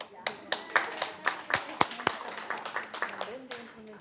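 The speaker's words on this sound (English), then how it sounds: "We should clap." A small group claps at a school board meeting just after a unanimous vote, a loose scatter of hand claps for a few seconds under low murmuring voices, then fading out.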